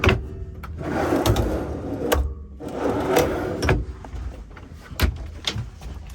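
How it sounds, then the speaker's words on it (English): A wooden drawer in a 2002 Roadtrek 200 Class B camper van slides and bangs shut several times, with clattering knocks and rumbling scrapes, close by in a quiet interior. "Drawer."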